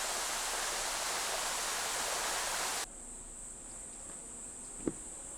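Close roar of an autumn mountain waterfall, a dense hiss of falling water that cuts off abruptly midway, leaving a quieter scene with a steady insect-like drone and one brief thump.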